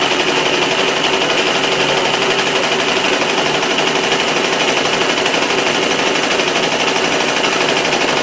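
A small thread winding machine wraps thread onto a bobbin, guiding it back and forth across the spool. It gives off a loud, steady mechanical whir and rapid rattle that runs without pause, with no talking.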